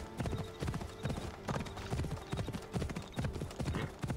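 In Assassin's Creed Odyssey, a horse trots across Macedonian terrain, its hooves clip-clopping in a quick even rhythm, close and clear over faint background ambience.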